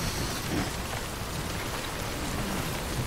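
Heavy, constant rainfall in Death Stranding fills the scene with an even, close hiss of drops striking the ground, unbroken and without voices.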